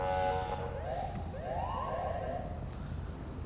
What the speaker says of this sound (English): What is with all the cops around here blipping their fucking sirens every 3 goddamn seconds?